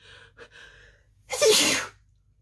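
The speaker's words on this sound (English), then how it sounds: "I feel a sneeze coming." A single loud sneeze bursts out close by, preceded by a faint tone and a sharp intake of breath.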